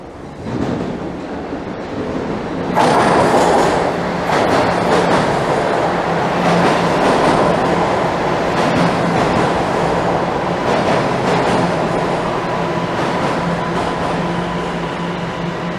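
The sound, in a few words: Toronto subway train on Line 1 arriving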